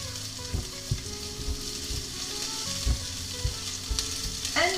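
Chopped garlic sizzles in hot oil in a pan while being stirred for Spanish salt cod croquettes, a steady close crackle broken by several sharp scraping knocks of the utensil.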